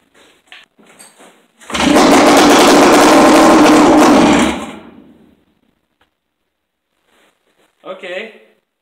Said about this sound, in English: Now I'm going to see if it'll fire a couple times.